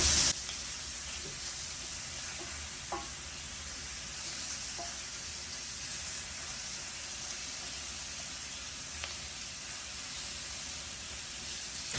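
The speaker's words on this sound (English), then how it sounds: "We're gonna flip our shrimp over." Shrimp sizzling steadily in a hot pan as they are flipped, a continuous bright frying hiss with a few faint clinks of turning, no talking.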